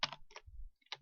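Several crisp keystrokes tap on a computer keyboard, a quick cluster followed by a pause and two more presses, quiet and close with no talking.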